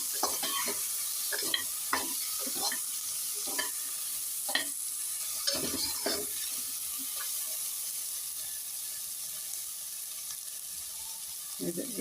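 Palak tofu sabzi roasting in a pan, a continuous sizzle broken by repeated scraping stirs of a spoon against the pan, which ease off toward the end.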